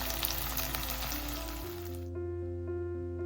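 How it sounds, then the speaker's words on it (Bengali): Onions and potatoes frying in a pan, a dense, close sizzle for about two seconds that then gives way to a quieter steady humming tone. "পেঁয়াজটা তো বেশ ভাজা ভাজা হয়ে গিয়েছে, আলুগুলো একটু ভাজা ভাজা হয়ে যাক।"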